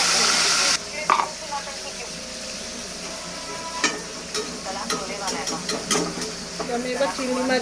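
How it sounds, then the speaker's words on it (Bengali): Prawns frying lightly in hot oil, a steady close sizzle with intermittent clinks and stirring scrapes, starting with a loud burst of hiss as they go into the pan. "আমি এবার চিংড়ি মাছগুলো ভেজে নেবো, খুব হালকা করে ভাজবো"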